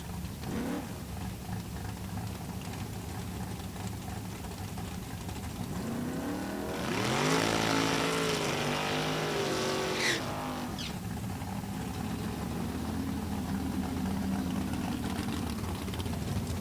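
At a drag strip, a 1970 Barracuda race car's engine idles and burbles, then surges into a loud revving roar for a few seconds before settling back, with crowd and track ambience around it.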